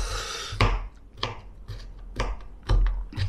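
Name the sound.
knife dicing an onion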